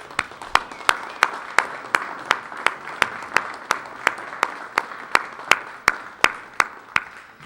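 Steady, evenly spaced claps ring out at a lecture forum as the audience thanks speaker Ted Gunderson, a sharp regular beat at a moderate level with a faint room murmur beneath.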